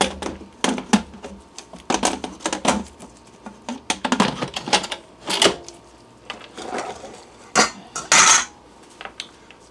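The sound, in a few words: electric pressure cooker lid being put back on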